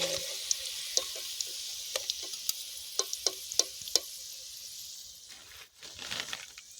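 Potatoes sizzling in a pan as a spoon clinks and scrapes through them in a quick series of sharp taps, with a softer hiss of frying underneath before the stirring tapers off.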